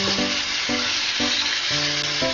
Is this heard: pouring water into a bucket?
no